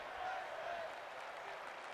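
A wrestling crowd at an IPW match cheering and applauding, a steady distant wash of voices and clapping under a commentator's talk, with a brief sharper burst near the end.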